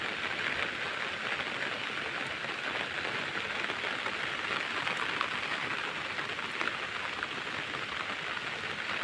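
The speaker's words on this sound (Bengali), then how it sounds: "বাইরে প্রচুর বৃষ্টি চলতেছে" Heavy rain pours down outside in a village, a steady, even hiss of drops striking surfaces that stays constant and moderately quiet throughout, with no voices.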